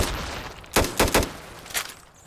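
Full-auto primary weapon bursts in the Those Who Remain video game, three to four loud, sharp volleys in quick succession with short gaps between, standing alone without talk.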